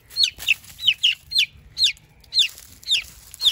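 A white frizzle Silkie chick peeps repeatedly, about ten sharp high chirps in quick irregular succession, close and clear over faint low background rumble.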